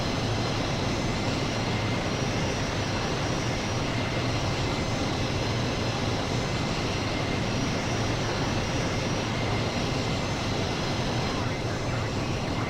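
Steady, loud roar of C-17 Globemaster III jet engines in Microsoft Flight Simulator, a broad continuous drone with no gaps, sustained throughout.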